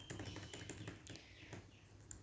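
Someone types on a computer keyboard while writing a Python if-else program. The keystrokes are quiet, scattered, close-up clicks, with faint background chirps.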